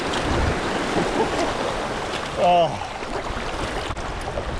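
Stellar S-14 three-piece kayak paddling on moving water, with a continuous rush of water and wind and a short voice exclaiming partway through.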